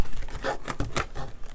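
Short bursts of tearing and crinkling as the packaging of a GoPro suction cup windshield mount is ripped open, close and loud, in a few quick pulls.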